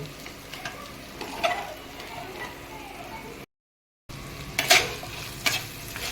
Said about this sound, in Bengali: মুড়োটা দিয়ে একটু নেড়ে ছেড়ে তারপরে আমি কচু শাকটা দেব।